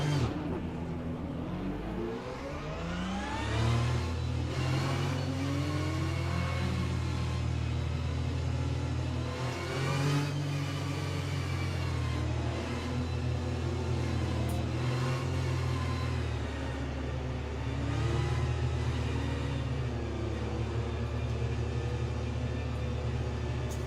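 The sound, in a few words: race car engines on formation lap in Le Mans Ultimate video game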